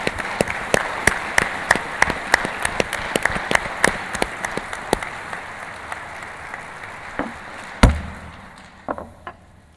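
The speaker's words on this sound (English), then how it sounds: "Please join me with a round of applause for our new District Deputy Grand Masters." Applause at a Masonic Grand Lodge annual communication for new District Deputy Grand Masters, a hall full of clapping with loud rhythmic claps standing out that fades to scattered claps near the end.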